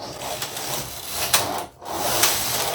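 A knitting machine works two plain rows on a baby sock top, its carriage sliding in steady, close rubbing passes with a few sharper clacks and a brief pause midway.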